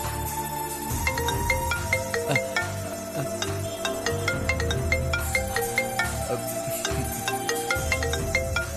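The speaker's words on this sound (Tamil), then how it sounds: "எதுக்கு பூமிகா ஃபோன் பண்றா?" A phone ringtone plays steadily as a repeating melodic pattern over roughly nine seconds, moderately loud against a busy background at a temple, with no talk over it.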